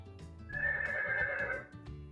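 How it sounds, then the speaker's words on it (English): A horse gives one clear, loud whinny lasting about a second, with a few faint snorts or hoof sounds around it and no talking. "It's a horse."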